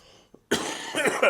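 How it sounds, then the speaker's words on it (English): A sharp burst of coughing, two or three harsh rasping coughs in quick succession after a brief click, close to the microphone. "All right, I'm coughing."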